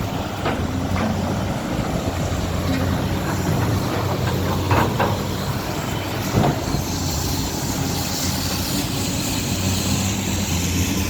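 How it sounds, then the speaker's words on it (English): Flood water pumps run steadily on a flooded street along Gouin Boulevard in Montreal, a loud, constant mechanical drone and hum with occasional thumps and clanks over the top. "There's those pumps in action."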